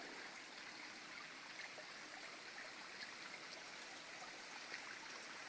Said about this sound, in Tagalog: Nasa sapa mismo.